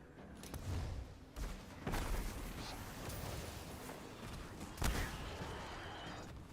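A grenade detonates in Destiny 2 amid ongoing combat, with sharp booms standing out near 2 and 5 seconds over a steady rumble of battle noise, no voices.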